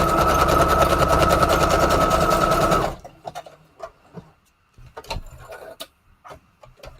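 A sewing machine sewing a straight stitch on a junk journal embellishment with a die-cut flower and ticket, running in a loud, steady, fast rattle for about three seconds and then stopping abruptly, followed by scattered clicks and handling noises.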